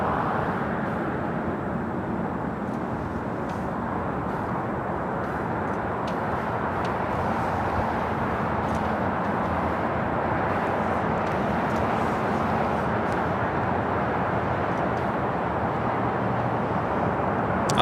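An airliner takes off from runway 25 Left at Los Angeles International Airport, heard as a broad, steady jet roar that holds loud and even throughout, with no voices.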